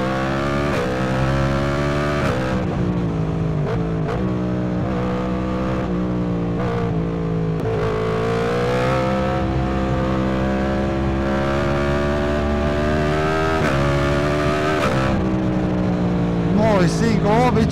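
A Yamaha MT-10 SP with its crossplane engine revs and accelerates hard, the loud growling engine note climbing through gears, with a rider's voice talking over it.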